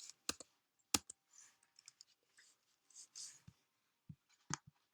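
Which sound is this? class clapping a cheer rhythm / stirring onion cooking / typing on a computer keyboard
typing on a computer keyboard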